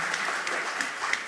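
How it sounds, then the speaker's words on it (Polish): Audience at a business awards gala in Jaworzno applauds steadily, a fairly faint, distant wash of many hands clapping with occasional sharper claps standing out. "Wielkie brawa ICB Pharma."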